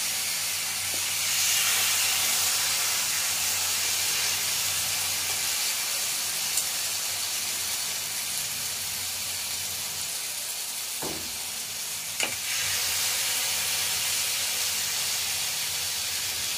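Tandoori chicken pieces fry in a lightly oiled pan, giving a steady broad hiss that persists throughout with only a couple of brief knocks, close and even in level, with no voices.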